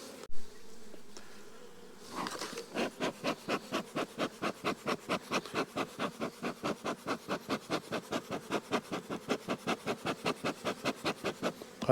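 Honey bees swarm and buzz at an opened green hive during a spring inspection, a loud close hum that starts after a quiet moment and pulses in a steady, even rhythm.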